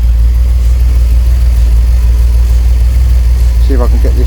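A car engine that has been sitting for a while idles with a steady low rumble, close and loud throughout, and a brief voice breaks in near the end.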